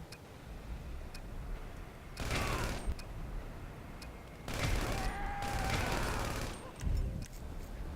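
Gunfire in the video game GTA V comes in several rapid bursts of crackling shots separated by quieter gaps, with a final short burst near the end.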